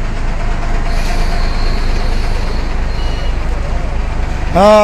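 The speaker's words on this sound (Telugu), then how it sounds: "బస్సు లోపలికి వస్తుంది." An APSRTC bus pulls into the Tenali bus station with a loud, steady engine and road rumble throughout, ending in a short, rising horn-like tone.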